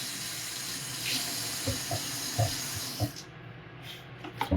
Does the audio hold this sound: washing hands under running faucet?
yes